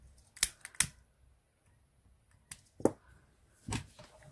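Scissors snip off excess ribbon while a hair bow is made, with two crisp close cuts early and a few quieter clicks afterward.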